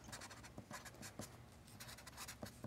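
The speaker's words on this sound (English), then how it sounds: "So I would write circle skirt, and I would write the waist size" Close, quiet scratching of a pen writing a label onto a paper sewing pattern for a circle skirt, short strokes in an uneven rhythm with no talking.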